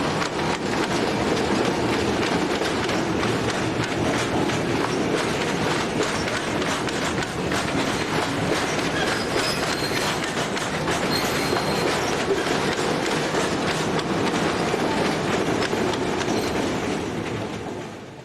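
A Portuguese class 1960 diesel locomotive hauls its train past, with a steady, loud, continuous rumble of engine and rolling wagons, rail clatter and occasional wheel squeal throughout, no voices.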